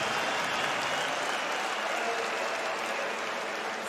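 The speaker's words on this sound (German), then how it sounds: "Das Publikum bejubelt diese Zeitstrafe." Spectators at a Germany versus Spain handball international cheer and applaud a time penalty, a dense, steady roar of clapping and crowd noise throughout.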